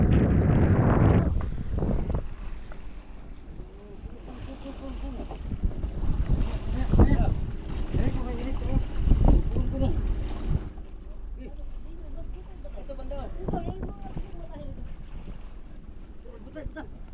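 Two wooden outrigger fishing boats from Dinahican out at sea, heard as low engine and water noise under gusty wind buffeting the microphone, while people talk nearby.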